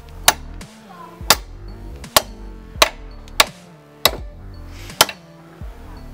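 A steel kukri blade, carbon added to mild steel with a welder, strikes a metal vise in a workshop, giving about eight sharp, ringing metallic blows at uneven intervals, loud and close, with no talking.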